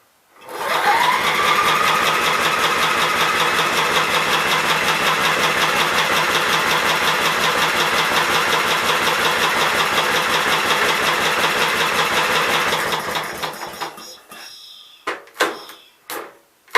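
A 16 hp cast-iron Briggs & Stratton engine runs steadily and loud with a rapid, even firing beat for about twelve seconds, then cuts out and sputters with a few sharp knocks near the end.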